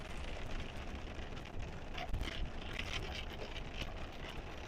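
Steady heavy rain drums on a van near Angel Fire, a dense continuous hiss with occasional louder drops, close and unbroken throughout.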